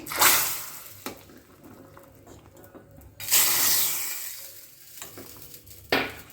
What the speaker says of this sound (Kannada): ಇವಾಗ ನಾನು ಒಂದು ತುಪ್ಪದ ಒಗ್ಗರಣೆ ಇದ್ದೀನಿ ತುಪ್ಪ ಸಾಸಿವೆ ಮತ್ತು ಒಗ್ಗರಣೆ ಮೆಣಸು ಮತ್ತು ಇಂಗನ್ನು ಹಾಕಿರೋದು